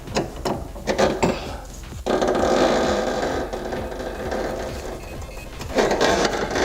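Ratcheting and clicking of a wrench working loose a large 30 mm strut nut on a rusty suspension strut, close up, with short metallic clicks followed by a steadier grinding whir.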